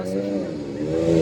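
A motorcycle runs close by at a moto show while its rider rides tight circles, the engine holding a steady buzzing drone that rises slightly in pitch, with a voice talking over it.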